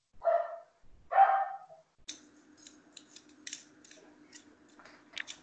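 Two loud dog barks close to the microphone in a home during an online meeting, followed by quiet clicking and tapping sounds.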